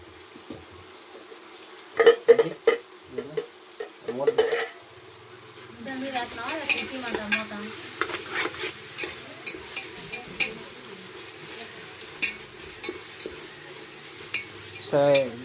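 Chicken curry mixture with coriander-cumin powder being stirred in a frying pan, giving scraping spoon strokes and clinks over a steady sizzle, close and moderately loud, with no talk.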